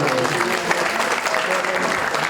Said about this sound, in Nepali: तपाईँले ताली बजाएर